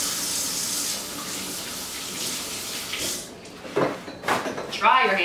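Hands are washed under a running kitchen tap while baking zucchini bread: a steady hiss of flowing water that gives way to splashing and a few sharp clatters near the end.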